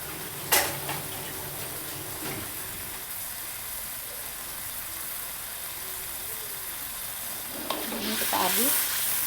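A blended spice paste for a fern leaf dish sizzles and fries steadily in a pan, reducing its water, with occasional stirring clatter and a louder burst of sizzle near the end.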